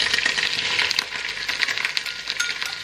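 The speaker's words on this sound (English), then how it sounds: "And you just want to fry this quickly" Ginger garlic paste and spices fry quickly in a hot pan for butter chicken, a close crackling sizzle with sharp pops and spits scattered throughout and no talk.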